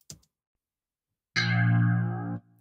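A low clavinet bass patch from Analog Lab with chorus and phaser, a brief plucked blip followed by one sustained, buzzy, slightly swirling note that holds for about a second before stopping.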